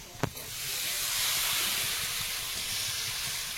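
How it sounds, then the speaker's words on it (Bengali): A sharp splash followed by a loud, sustained sizzling hiss as water hits a hot pan of fried fish and vegetables for a curry, steady and close. "সবকিছু ভাজা হয়ে গেছে, এবারে জল দেবো।"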